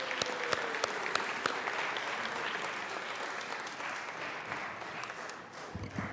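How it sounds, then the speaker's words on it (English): A room full of people in the Colorado House Capitol Chamber applauds steadily, a dense, even patter of clapping with a few sharper claps standing out, tapering slightly at the end. "Let's give them a round of applause and welcome them to the Capitol Chamber."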